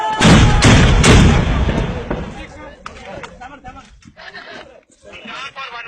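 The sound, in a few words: gunfire at the border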